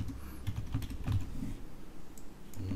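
Rapid keystrokes on a computer keyboard as a short password is typed, a close, steady run of soft clicks with brief pauses, no talking.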